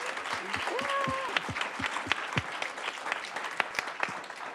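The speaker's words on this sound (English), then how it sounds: "Give you a round of applause." Applause from an audience with a voice talking over it early on, the clapping continuing steadily at moderate volume.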